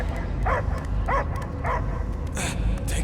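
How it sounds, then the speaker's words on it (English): A dog barks and yips in Guardians of the Galaxy, three short, evenly spaced calls over a dense, steady game soundscape with low rumble, followed by a brighter burst near the end. "I hear only barking."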